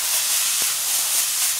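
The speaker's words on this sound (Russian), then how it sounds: "Теперь жарим вместе с овощами." Buckwheat frying together with vegetables in a pan gives a steady, loud broadband sizzle and hiss, close and continuous, with a couple of faint pops and no voices.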